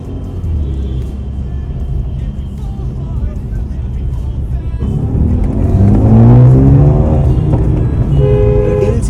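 A Mercedes A35 AMG with a decat downpipe and Stage 2 pops-and-bangs ECU tune idles with a low rumble, then revs up loudly into a rising roar. Voices are faintly audible under the engine.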